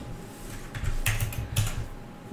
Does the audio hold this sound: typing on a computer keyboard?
yes